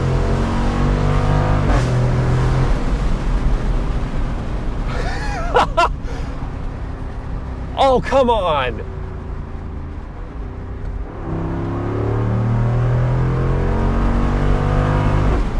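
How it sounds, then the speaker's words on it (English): A Jeep Wrangler Rubicon 392 with a 470 hp HEMI V8 and performance exhaust revs and climbs through gears, its deep rumble rising and falling under and between talk from inside the cabin. "Now we've got V8 power and it sounds magical."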